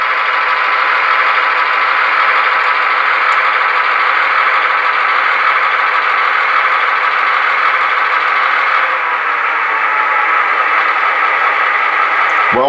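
Athearn Genesis GP15-1 HO scale model diesel locomotive with Tsunami 2 DCC sound, running at speed step 1, gives a steady, continuous idling engine drone with an even mechanical hum throughout, no talking over it.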